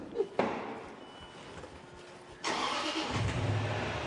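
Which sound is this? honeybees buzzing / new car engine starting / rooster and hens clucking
new car engine starting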